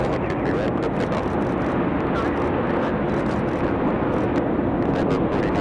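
Airplane taking off from runway 23 right at Raleigh-Durham International Airport, a loud, steady, broadband jet engine roar filling the whole stretch with a faint voice underneath.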